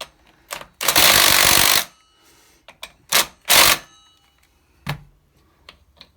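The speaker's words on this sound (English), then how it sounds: "Now, I'm going to reverse the drill." A power drill running in reverse whirs in short bursts: one longer run, then a few quick pulses, with quiet gaps between them.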